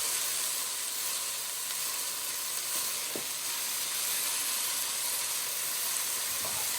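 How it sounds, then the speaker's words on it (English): Mushrooms and garlic sizzle steadily in a hot pan, a constant crackling hiss with a couple of faint clinks from stirring, close and without talk. "now I'm going to add my mushrooms and my garlic"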